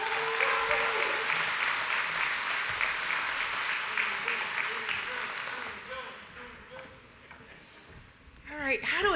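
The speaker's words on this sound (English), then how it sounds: "Round of applause for Susie, please." Audience applauding at an awards ceremony, a dense, steady wash of clapping that gradually fades, with a voice and some sharp sounds rising near the end.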